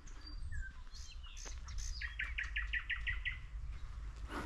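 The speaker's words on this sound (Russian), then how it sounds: "Он так заливался, тут соловей." Nightingale singing outdoors in a small town near Moscow, a bright rapid series of repeated trilled notes over low background rumble, moderately distant.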